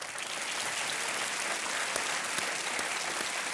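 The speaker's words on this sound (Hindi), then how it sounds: "एक बार फिर मैं चाहता हूं कि अनिल कपूर जी को आप तालियों के साथ इनका अभिनंदन करें।" Studio audience on the Indian quiz show Kaun Banega Crorepati claps for a celebrity guest, a continuous, even wash of applause that stays steady and fairly soft throughout.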